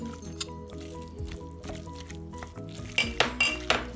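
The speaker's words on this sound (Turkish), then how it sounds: "Güzelce karıştırıyorum kıymamla birlikte." Ground meat stirred into an oil-coated filling mixture for Turkish etli ekmek, with a steady soft squishing and scraping of a spoon in a pan, plus a few louder clinks near the end.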